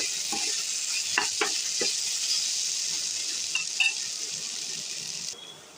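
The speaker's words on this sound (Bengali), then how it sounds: "এখানে আমার আলু পেঁয়াজটা সুন্দর করে ভাজা হয়ে গেছে" Sliced potatoes and onions fry in a pan with a steady, close sizzle throughout, broken by a few sharp stirring clinks and scrapes before the hiss drops away near the end.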